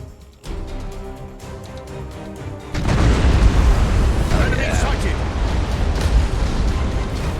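Torpedo strikes in Battlefleet Gothic Armada 2, a Warhammer space-fleet game: a low rumbling tone gives way to a sudden heavy roar of booming explosions that stays loud and dense, with crackling bursts layered on top.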